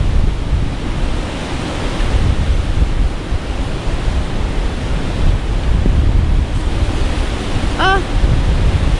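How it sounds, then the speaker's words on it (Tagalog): Strong wind roars steadily across the microphone outdoors, a dense, continuous buffeting rush like surf, loud throughout, with a brief faint voice near the end. "kalakas ang hangin ah"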